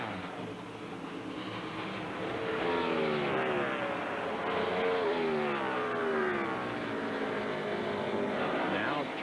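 NASCAR stock cars at the Southern 500 roar past on the track, their engines rising and falling steadily as the cars sweep by, loud and continuous, with a race commentator's voice faintly underneath.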